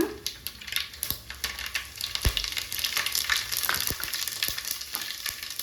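Mustard seeds and cumin sizzle in hot oil, a close, steady frying hiss dotted with rapid crackles and pops as the seeds spatter and splutter.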